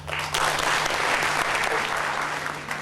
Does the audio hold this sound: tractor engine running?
no